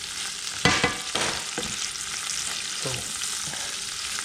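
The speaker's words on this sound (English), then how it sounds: "ain't nothing like bacon on the cast iron" Bacon sizzles in a cast iron pan, a moderate steady crackle with a few sharper scrapes and spits near the start, heard close and without talk.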